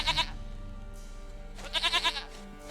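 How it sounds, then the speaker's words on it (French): A goat bleats in The Witcher 3, a short wavering call at the start and a second, longer quavering bleat near the end, fairly close and clear over quiet game ambience. "Une chèvre à moi, gentille, douce biquette."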